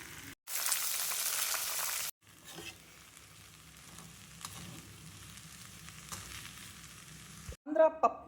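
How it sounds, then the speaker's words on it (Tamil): Loud sizzling and crackling of spices hitting hot oil, a burst of a couple of seconds followed by quieter frying and a few stirring clinks. "நம்ம அந்த புளி போட்டு இப்போ தாளிக்க போகிறோம்"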